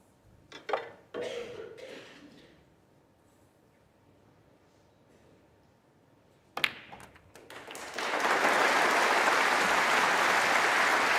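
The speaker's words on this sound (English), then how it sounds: "round of applause" An audience at a Masters snooker semi-final breaks into steady applause after a few taps and a quiet stretch, the clapping swelling and holding loud toward the end.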